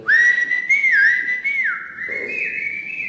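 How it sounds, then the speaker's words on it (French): A person whistles a loud, close melodic call to summon someone, with rising and falling gliding notes held over several seconds. "Bah, vas-y, siffle."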